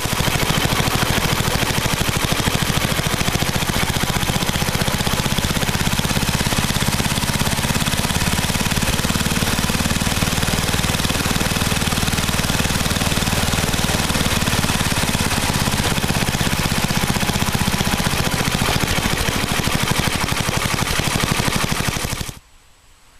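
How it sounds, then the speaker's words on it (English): A small engine runs steadily as its carburetor idle screw is turned in and out, a loud continuous close-up rattling drone with a sustained pulsing rhythm that abruptly cuts out near the end. "I'll turn the idle screw in and out so you can hear the engine speed up and down"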